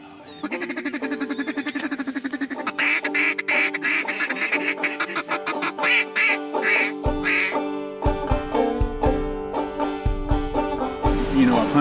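Ducks quacking during a duck hunt, a rapid series of loud close quacks that builds into a rhythmic, insistent run with faint jingling and low thumps beneath.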